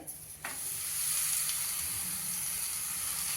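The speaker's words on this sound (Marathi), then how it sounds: "आणि थालीपीठ आपण तव्यावर टाकून घेऊया" Thalipeeth flatbread of ragi and sweet corn flour hits oil on a hot griddle with a short thump, then a steady bright sizzle hisses on, close and without voices.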